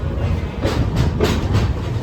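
The Kerala Express train rumbles along the tracks nearby, loud and continuous, with a rhythmic clickety-clack of wheels over rail joints.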